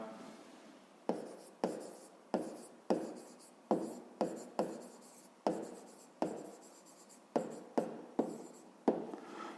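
Handwriting during a fifth-grade maths lesson on a rectangle's length and width: a steady series of close, distinct scratching pen strokes, each a sharp onset fading quickly, repeating roughly every half-second with no talk.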